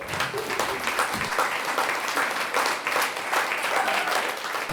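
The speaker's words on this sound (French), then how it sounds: "qu'il y a beaucoup trop d'applaudissements pour un petit bonhomme comme moi" A theatre audience applauds after a performance, a dense steady wash of many hands clapping throughout, moderately loud and unbroken.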